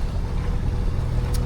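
A sailboat motoring under engine power on a windless day, its starboard engine suffering a vibration problem. A steady, close, deep rumble drones on without a break and with no talk.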